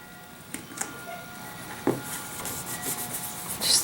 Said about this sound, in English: Just give it a good rub down.